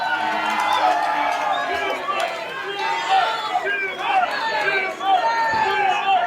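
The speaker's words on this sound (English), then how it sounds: "There's a Stuart chant." A wrestling crowd at a live indoor independent show chants a referee's name, a loud, rhythmic mass of voices with cheers and whoops swelling and fading, while a commentator talks over the top.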